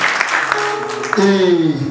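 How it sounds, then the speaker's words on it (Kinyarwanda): A wedding crowd claps for the bride and groom, a dense patter of hands mixed with a loud voice and a rising musical tone over the applause. "nimwongere muha amashyi abageni bacu baraberewe kandi baraberanye"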